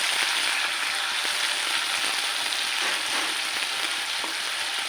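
Spices and turmeric sizzle loudly with tilapia fish in a hot oiled pan, a continuous bright crackle close up with faint scraping ticks of stirring.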